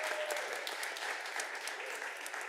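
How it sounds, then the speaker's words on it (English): Quiet, steady round of applause from a city council meeting audience after the Pledge of Allegiance, continuous dense clapping with no voices over it. "Let's give her a big round of applause."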